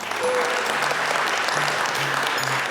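Audience applause at a live cybersecurity talk in Boca Raton, dense steady clapping from a crowd that keeps going at an even level throughout.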